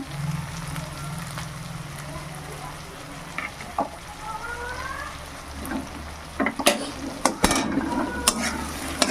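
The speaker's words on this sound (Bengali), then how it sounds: "আদা রসুন রসুনটাকে একটু ভেজে নেবো" Ginger-garlic paste sizzles steadily in a pan of softened fried tomatoes for a taki fish curry, with spoon stirring and sharp clatter against the pan growing busier toward the end.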